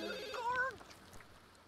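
Telephone ringing in The Sims 2, a short electronic ring tone sounding once near the start, then trailing off into quiet room tone.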